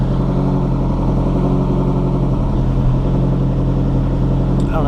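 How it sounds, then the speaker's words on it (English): Ford Focus engine idling as it warms up, with an exhaust leak; a steady, close, low rumbling drone that continues without a break. "while I was letting it warm up, I discovered it's got an exhaust leak somewhere"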